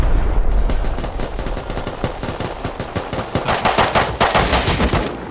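A minigun in the video game Rust fires a long, continuous, rapid stream of shots, loud and close, with no talk over it.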